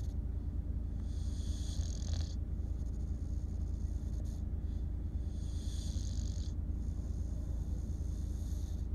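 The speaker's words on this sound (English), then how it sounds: "Are you snoring while you're awake?" An English Bulldog snores on a busy high street in Bath, with a steady low rumbling rasp that swells in two clear breathy waves over constant background street noise, close to the microphone.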